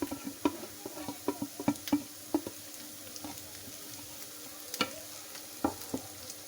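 Green chilies and tomatoes frying with garlic and ginger over a low flame, a soft, steady sizzle broken by scattered spatula scrapes and stirring clicks close by.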